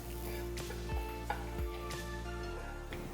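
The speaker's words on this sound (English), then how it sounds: "Roast all the ingredients till you get a nice aroma and a nice golden brown color." Spices and fresh grated coconut roast in a pan with a quiet, steady sizzle. A few soft scrapes and knocks from stirring cut in, and no one speaks.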